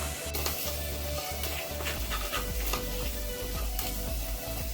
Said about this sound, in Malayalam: നന്നായിട്ട് ഒന്നുകൂടി ഒന്ന് ഇളക്കിയെടുക്കാം.